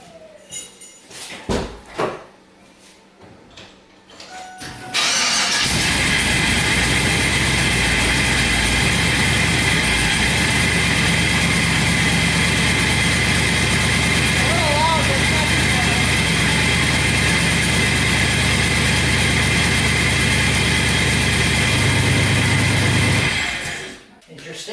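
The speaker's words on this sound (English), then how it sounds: "I'll start it up and then I'll go and crack the valve so you can see the difference between the muffler and no muffler. And I'm just going to let the turbo spin." Triple-turbo Ford Ranger engine starting and then idling steadily with a loud, constant exhaust drone and a turbo spinning, close and continuous for about twenty seconds, with brief talk before it starts.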